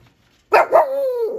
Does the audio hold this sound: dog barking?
yes